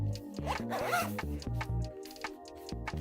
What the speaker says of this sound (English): Simple little padded zip.